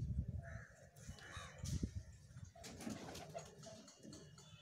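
Pigeons cooing softly in a loft, low murmuring calls repeating against a faint, busy background.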